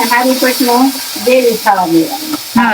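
Tomato dropped into a hot tempering of curry leaves and turmeric, frying with a steady sizzling hiss beneath close, loud conversation.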